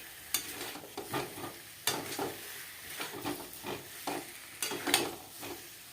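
Potatoes for niramish aloo dum are stirred and sautéed in a pan with spices and tomato, making a soft, low sizzle under repeated scraping strokes of a spoon that come in an irregular rhythm close by.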